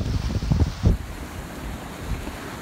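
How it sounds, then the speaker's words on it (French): Strong wind of about 23 to 24 knots at sea in a bay off the Greek islands, heard aboard a sailboat with its genoa furled: a steady, loud broadband rush with gusty buffeting early on, alone with no voices. "Il y a 23 nœuds, 24 nœuds de vent."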